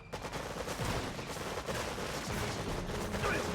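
Robots fire shotguns in the strategy game Red Alert 3, a dense, continuous clatter of gunfire and battle noise at low volume with no pauses.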